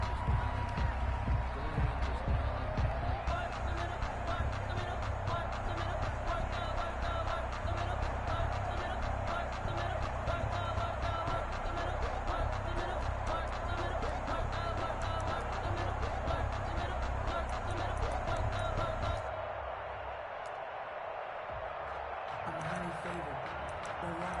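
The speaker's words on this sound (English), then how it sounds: "the crowd getting into it as we come up on a big 3rd down" Stadium crowd noise from the Madden 21 football game during a Panthers vs Raiders match: a dense, steady roar that runs loud for about twenty seconds, then drops slightly toward the end.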